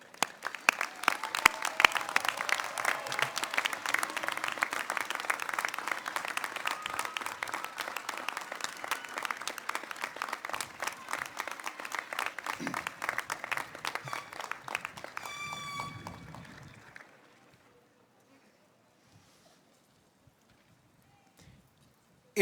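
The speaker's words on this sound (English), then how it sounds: "join me in giving a round of applause to your families and friends for their love and support" Graduates at a college commencement ceremony applaud their families and friends, a long steady crowd of brisk claps lasting about sixteen seconds before fading out to near silence.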